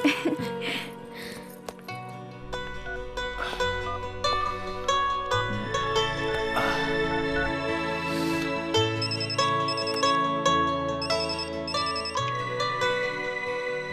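A mobile phone ringtone plays for an incoming call from a college friend, a melodic electronic tune that repeats steadily and loudly for the whole stretch, close by and without talking over it.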